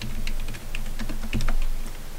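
Typing on a computer keyboard while entering data into an Excel 2010 spreadsheet: a quick run of light, irregular key clicks, close and clear, with no talking.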